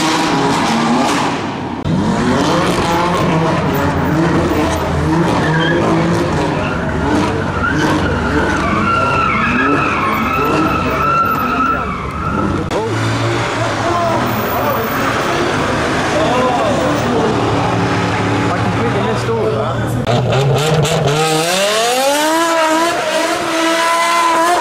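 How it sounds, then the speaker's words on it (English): Car tires skid and squeal loudly at a car meet with modified cars, engines revving hard, long continuous screeching with rising and falling pitch near the end. "and some skids"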